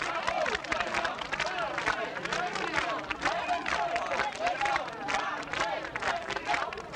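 Paris department store workers cheering and calling out together in a dense, continuous crowd roar that stays loud and steady throughout, with overlapping voices and some clapping mixed in.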